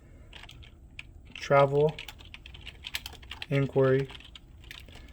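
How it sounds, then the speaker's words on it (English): Keys tapped on a computer keyboard in quick, soft clicks, close and fairly faint, running under a voice that speaks two short phrases. "I'm going to type in my own name."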